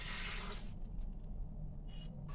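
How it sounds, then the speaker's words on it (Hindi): Water from a cup is poured into a pressure cooker in a quiet kitchen, a soft splashing rush for about half a second, followed by faint drips and small clinks. "इसमें डालेंगे 1 कप पानी"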